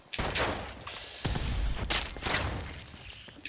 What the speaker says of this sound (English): Plasma pistol.